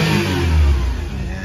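A 2015 Suzuki Every cargo van's engine revs hard and close after a tune-up and service, a loud, steady mid-pitched roar with no talking over it.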